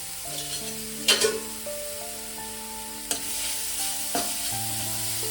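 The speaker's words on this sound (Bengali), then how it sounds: "গাজরটা একটু ভালো করে তেলে নেড়ে নেব।" Grated carrot stirred and fried in oil in a pan, a steady low sizzle with a few sharp scraping stirs of the utensil, close and alone, with faint tonal background music running throughout.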